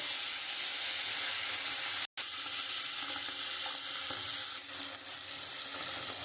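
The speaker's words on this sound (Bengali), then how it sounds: "আমি কড়াইয়ের মধ্যে তেল দিয়ে দিয়েছি, তেলটা গরম হয়ে গেছে। এবার মাছগুলো আমি ভেজে নেব।" Koi fish fry in hot oil in a wok with a steady, close, crackling sizzle throughout, broken only by a momentary gap, with faint stirring touches near the end.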